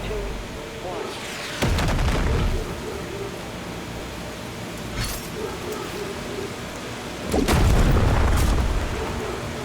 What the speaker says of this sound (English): Weapon drop incoming.